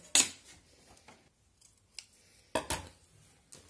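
Scissors snip through paper strips for a handmade trifold album, a few sharp close cuts separated by quiet pauses with faint handling sounds between.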